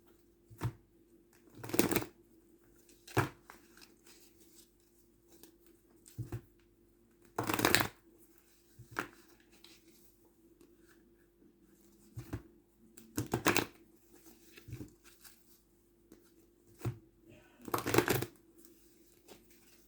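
Tarot cards being shuffled in short riffling bursts at irregular intervals, close and fairly quiet, with near-silent gaps between them.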